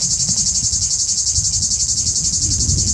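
Cicadas sing in a steady, unbroken high buzz that holds at an even level throughout, with a soft low rumble underneath and no voices.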